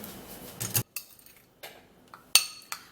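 A spoon scrapes and clinks against a bowl while paste ingredients for an armpit hair-removal mix are stirred, in a handful of short, close, irregular bursts with quiet gaps between them.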